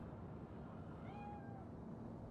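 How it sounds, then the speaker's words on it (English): A cat in the video game Cyberpunk 2077 gives a single short meow, faint and partly buried under a steady background hum. "Nope, just a cat."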